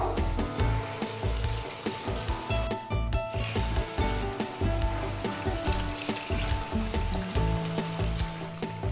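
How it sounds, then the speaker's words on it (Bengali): Chicken lachha pakoras deep-fry in oil over a medium flame, a thick, bubbling crackle that stays constant and close, with steady rhythmic churning and no speech. "মিডিয়াম ফ্লেমে এবার চিকেন লাচ্ছা পকোড়াগুলো ভেজে নেব।"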